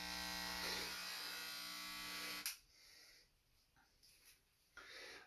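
Electric clippers buzz steadily and loud while shaving hair on a head with a missing piece of skull, then the motor stops and only faint breathing and handling noises remain.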